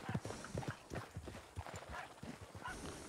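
Horse hooves clip-clopping in the video game Red Dead Redemption 2, a quick uneven run of hoof strikes at moderate distance, steady throughout with a faint voice in the background.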